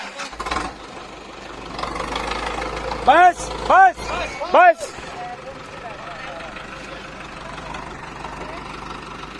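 A New Holland 5620 4x4 tractor idles with a low, steady engine drone while being reversed, as someone shouts three short calls over the running engine.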